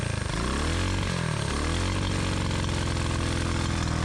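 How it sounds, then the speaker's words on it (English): An abandoned police motorcycle, pulled from a swamp, kick-starts and settles into a loud, steady, buzzing idle as its revs climb and hold, close and alone. "The engine is finally coming to life and the revs are climbing."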